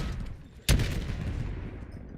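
A frag grenade detonates in Black Ops 7 Zombies, one sharp loud blast after a short lull, followed by a rumbling tail and scattered gunfire.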